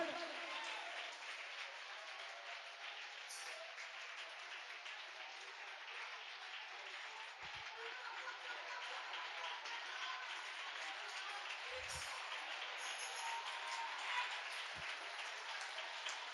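A worship congregation claps hands together in a dense, sustained roar of applause that runs without a break, with voices faintly mixed underneath.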